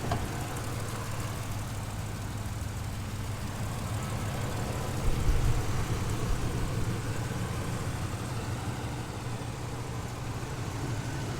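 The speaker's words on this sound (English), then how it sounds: "Engine sounds good" A 2000 Chevy K2500 crew cab 4x4 pickup with 179,000 miles idles steadily, a continuous low engine rumble with no talking over it.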